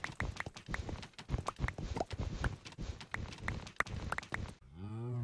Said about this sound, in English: I still hear cows.